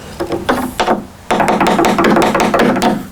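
Repeated hammer blows on a Mortal Kombat II arcade cabinet being stripped of carriage bolts and vinyl, a few spaced knocks at first, then a dense run of loud, close wooden thwacks.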